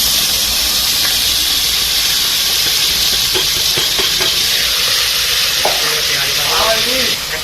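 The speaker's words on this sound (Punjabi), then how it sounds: "ਆਪਣਾ ਜਿਹੜਾ ਤੇਲ ਆ ਚੰਗੀ ਤਰ੍ਹਾਂ ਗਰਮ ਹੋ ਗਿਆ ਹੁਣ ਇਹਦੇ ਵਿੱਚ ਪਾਵਾਂਗੇ ਆਪਾਂ ਕੱਟੇ ਹੋਏ ਪਿਆਜ਼" Chopped onions hit hot oil for homemade macaroni, giving a loud, dense, continuous sizzle with hissing steam and intermittent stirring scrapes throughout; no voices.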